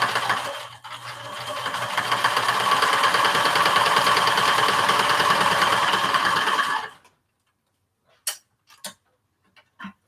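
A sewing machine stitches along the edge of strawberry-print fabric in one fast, steady, close whirring run of about seven seconds, then stops abruptly, followed by a few faint clicks and handling sounds.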